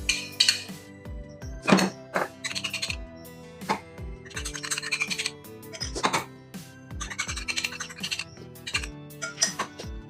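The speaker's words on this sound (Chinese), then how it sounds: "现在呢，我们把它搅拌均匀" A spoon stirs the sauce mixture for Huangmen braised chicken in a bowl, giving repeated close, bright clinks and scrapes against the bowl in an uneven rhythm with short pauses.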